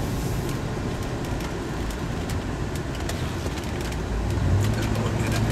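A 1994 Ford Bronco driving while turning around, giving a low steady engine rumble and road noise with a slight swell in loudness near the end.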